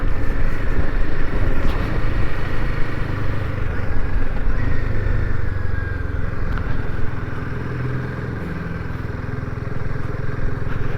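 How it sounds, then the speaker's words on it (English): A Royal Enfield Himalayan 450 motorcycle engine idles steadily while warming up, a close, continuous low throbbing rumble that holds even throughout with no talking. "So the old bike's just warming up."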